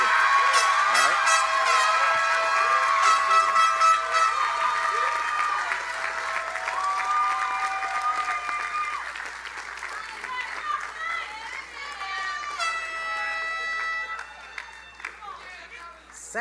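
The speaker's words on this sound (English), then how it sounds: "give him another round of applause" Long applause from a crowd at a university commencement ceremony, sustained clapping with scattered cheers and whoops, while a voice talks over it and it gradually thins out.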